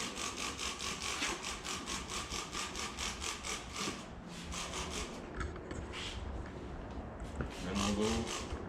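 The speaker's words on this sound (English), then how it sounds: "So we're gonna do one more scrub." Rhythmic scrubbing of a motorcycle fuel tank and skid plate during coating prep, repeated brisk rubbing strokes close up, followed by slower irregular scraping and handling noises.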